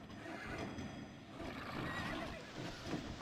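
Horses in the medieval strategy game Knights and Merchants whinny several times amid a soft clatter of hooves, fairly quiet and without speech.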